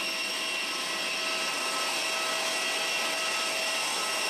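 Thai Air Asia passenger plane at a small airport, heard as a steady, loud broadband engine roar with a whining tone, constant throughout without any talk.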